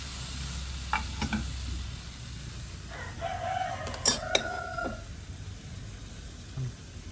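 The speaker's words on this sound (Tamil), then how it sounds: "இதோட புளியையும் போடுவோம். வதங்கட்டு தக்காளி நல்லா வதங்கட்டும்." Tomatoes and tamarind sauté in a pan for chutney, with a steady low sizzle and a few scraping stirs, while a rooster crows loudly nearby midway through.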